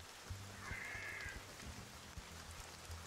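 Muted rain in a sidescroller video game makes a faint, steady patter under low soft thumps, with a brief higher tone near the start.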